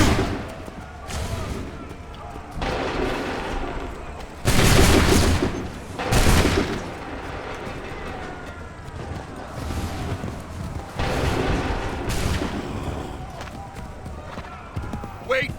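Musket volleys crack out in an Assassin's Creed III battle, several loud broadband blasts in bursts with ragged gaps between them, over a busy battlefield din while shouted commands come and go.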